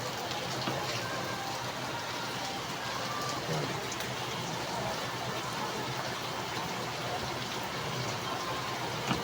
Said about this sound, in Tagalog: umulan na naman guys